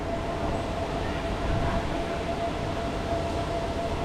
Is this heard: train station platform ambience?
yes